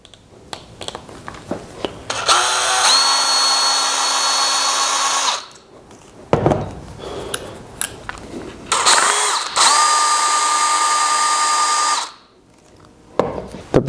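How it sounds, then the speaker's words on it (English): Power drill backing out the two screws on a Xero rinse bar brush block, two loud whirring bursts of several seconds each with a pitch that rises as it spins up, separated by clicks and handling noise. "You're just going to undo those two screws."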